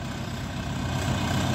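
A four-cylinder Orion 404 four-wheel-drive mini tractor idles nearby with a steady, low, even engine rumble and no change in pace.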